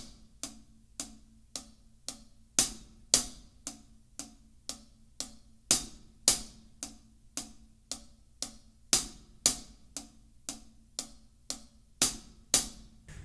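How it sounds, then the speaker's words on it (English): Six-stroke roll played on a drum hi-hat: crisp, bright repeated bursts of tight stick strokes in a steady rhythm, with regular accented hits, close and clear with no talking. "So that's how that 6-stroke roll sounds on the hi-hat."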